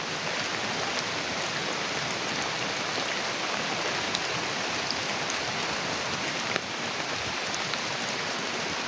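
Heavy rain pours down in a steady, dense roar that stays loud and unbroken the whole time, with no voices over it.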